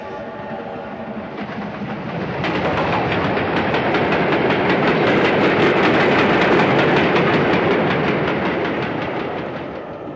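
A train rumbles along the rails, building from a low drone into a loud, steady roar with rapid rhythmic clacking, then easing slightly.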